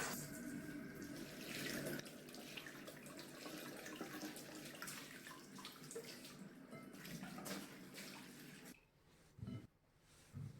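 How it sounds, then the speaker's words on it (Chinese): Tap water runs and splashes steadily over cherry tomatoes being washed in a kitchen, with a soft, continuous gush that briefly breaks into faint sloshing near the end. "2斤小番茄先去蒂，再将它清洗干净"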